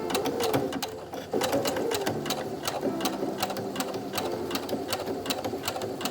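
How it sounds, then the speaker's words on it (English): A sewing machine runs a zigzag stitch along stretched face-mask fabric, a rapid rhythmic clatter of needle strokes continuing steadily with a brief slowdown near the start. "make sure you're on a zigzag setting. And you're going to pull on your fabric as you sew"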